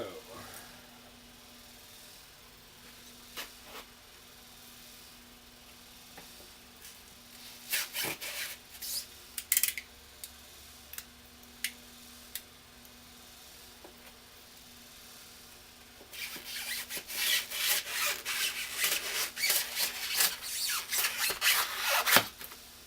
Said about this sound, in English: it sands away fairly nicely too